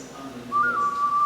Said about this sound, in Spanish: Instrumentos de viento, esencialmente. Son silbatos.